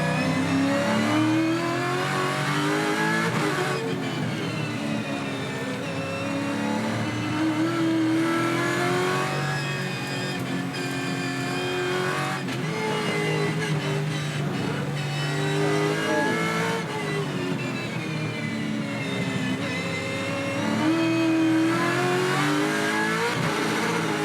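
A Supercars race car's engine is heard from onboard at turn 1, loud and continuous, with rising and falling revs through gear changes and braking and faint tire squeal, with no voices over it.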